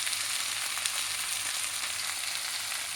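Masala sabudana ingredients fry in a pan with a loud, steady sizzle and crackle throughout, close and continuous with no talk.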